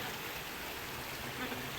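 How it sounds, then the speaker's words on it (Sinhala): Water running from an overflowing village tank, a soft, steady rushing flow, fairly quiet and continuous with no talking. "වැව් උතුරලා වතුර වැඩි වෙලා"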